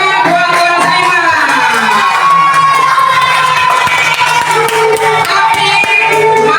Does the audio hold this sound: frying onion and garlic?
no